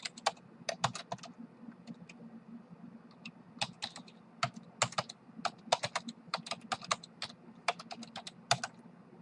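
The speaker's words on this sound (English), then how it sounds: "now what you want to do is you're going to retype in the URL." Computer keyboard typing a web address: quiet, close, irregular key clicks in quick runs and short pauses over a low steady hum.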